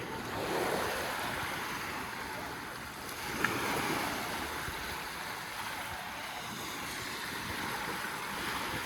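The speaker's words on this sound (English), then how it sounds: "Waiting for a big wave to come." Ocean surf breaks on a rocky shore on a summer day, a continuous roar and wash of waves with gusty wind buffeting the microphone and one brief knock partway through.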